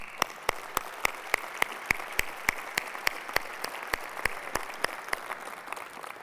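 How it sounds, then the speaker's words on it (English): Sparse, evenly spaced sharp claps ring out over a steady hiss of crowd noise, a slow rhythmic applause rather than a full ovation. "I think we owe the team at Sony a round of applause."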